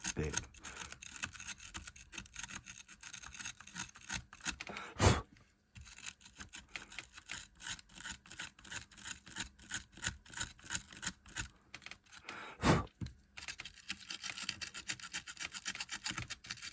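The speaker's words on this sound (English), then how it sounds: "let's have a look at this white one, see if the corrosion can be cleaned up a bit" Scrubbing corrosion off the battery terminals in a Game Boy Advance shell makes a close, fast, scratchy rasping in steady bursts, with two short pauses along the way.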